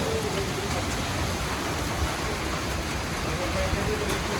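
Heavy rain driven by a windstorm in a village during a hailstorm, a dense, steady roaring hiss of downpour and gusting wind filling the whole scene without pause.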